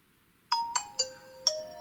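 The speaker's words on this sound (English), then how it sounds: "and the Nokia tone." A Nokia 3210 plays its short startup tone: five bright, clean electronic notes in quick succession, close and alone over silence.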